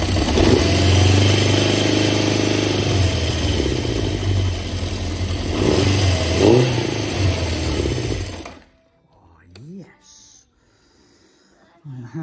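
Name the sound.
1978 Honda CB750 motorcycle engine running and revving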